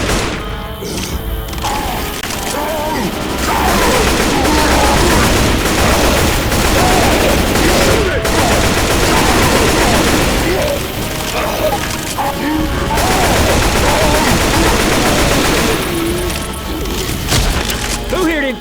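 Constant loud gunfire from Left 4 Dead 2 as the Tank is attacked at the Dark Carnival, dense overlapping automatic shots, booms and shouting voices over game music for the whole stretch.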